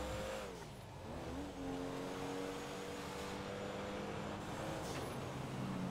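An Enus Super Diamond luxury car from GTA 5 Online drives steadily, its smooth engine drone holding a continuous tone with gentle pitch shifts as it cruises, heard alone with no talk.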